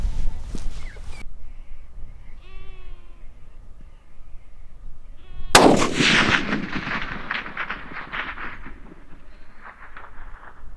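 A single loud, close rifle shot from a Howa Bravo rifle fitted with a Nightforce ATACR scope cracks out in the open, followed by a long, rolling echo that fades slowly. A crow caws briefly beforehand.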